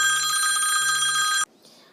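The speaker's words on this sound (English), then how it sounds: "my phone rang and now I got distracted" A phone rings close by in a room, giving a steady electronic bell tone with a pulsing pattern. It stops abruptly after about a second and a half, leaving quiet.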